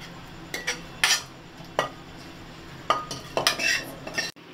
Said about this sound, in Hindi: तो अब मैं इसमें तड़का डाल रही हूँ